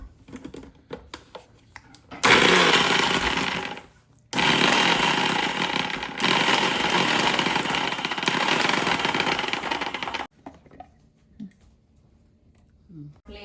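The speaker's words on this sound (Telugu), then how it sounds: "జస్ట్ పచ్చిమిర్చి ఇంకా జీలకర్రని మిక్సీ పడుతున్నాము కచ్చాపచ్చాగా" A kitchen mixer grinder coarsely grinding green chillies and cumin seeds runs in two loud, harsh whirring bursts, the first short and the second about six seconds long. Quieter talking and small kitchen noises come before and after.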